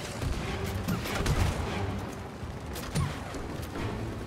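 Gunfire from shooting in It Takes Two, a dense patter of soft repeated shots over busy game noise, moderately loud and continuous with no clear gaps.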